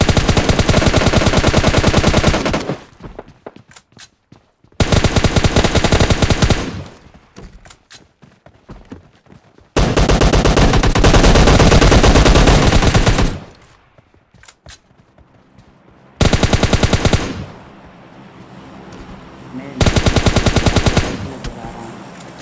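Gunfire in PUBG Mobile Lite, played as a duo match with a Kar98 rifle in use, comes as several loud, dense bursts of rapid automatic shots separated by brief quieter gaps, close and dominant throughout.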